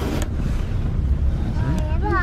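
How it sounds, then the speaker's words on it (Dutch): Steady low roar of strong wind in Istanbul buffeting a microphone, constant throughout, with a voice faintly audible underneath. "Vandaag waait het best hard hoor"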